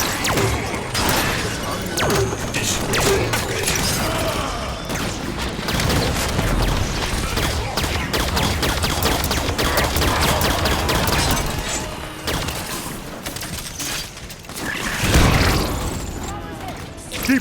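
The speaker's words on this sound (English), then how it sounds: "Opening fire." Gunfire in Halo 5: Guardians: dense bursts of shots and clattering mechanical impacts over a loud, busy battle, with rapid sharp cracks throughout and voices speaking over the action.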